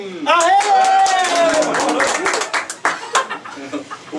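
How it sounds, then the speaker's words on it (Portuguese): Crowd applauding a contestant at a guitar duel, brisk overlapping claps mixed with voices and a held melodic tone, loud at first and then thinning into scattered claps. "Palmas para Jason"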